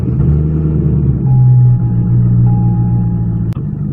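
A 2006 Corvette Z06 fitted with a Lingenfelter two-step launch controller idles steadily up close, a loud, deep, continuous engine rumble with faint tonal whines, ending in a sharp click.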